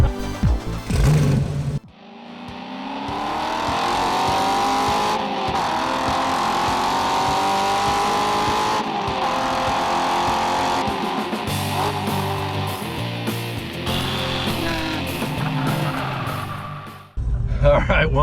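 A 1967 Ford Mustang race car roars at full throttle during an autocross run, its engine droning loudly and shifting pitch through the lap, with tire squeal and a voice talking over it.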